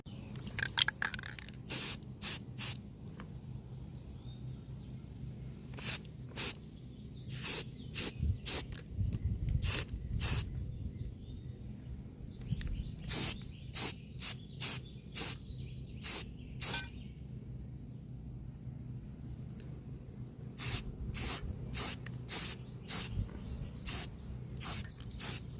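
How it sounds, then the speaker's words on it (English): Short bursts of an aerosol spray can hiss repeatedly as garden tools are spray painted, close and fairly loud, separated by brief pauses over a low background hum. "now we're on to the next step where I'm going to spray paint it"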